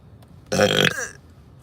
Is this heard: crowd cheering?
no